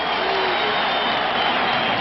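Stadium crowd at a 1990 Philadelphia Eagles football game giving a loud ovation for the defensive unit, a dense steady roar of cheering and applause with no clear individual claps.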